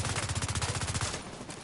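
Rapid rifle gunfire from the shooter game The Division 2, a fast run of about twenty evenly spaced, loud close shots lasting around a second, then a short fading tail with no talk.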